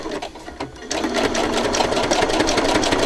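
A sewing machine stitches a ring-bound December Daily craft album, first in a brief stop-start and then as a continuous fast rattling whir close up, with no talking.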